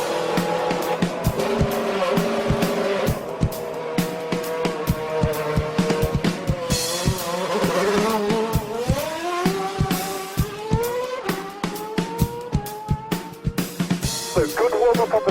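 A race car on its formation lap weaves to warm its tires and brakes, the engine rising and falling in loud close revs with sharp repeated pulses, a steady in-car roar throughout.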